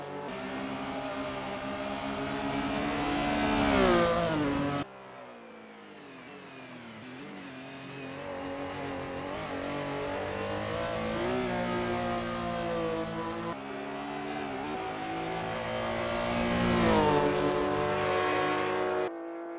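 A 1974 Porsche 911 race car in Assetto Corsa revs loud and close through a run of upshifts and downshifts, with a brief gap of lower engine drone near the middle before the revs climb again, with no talking.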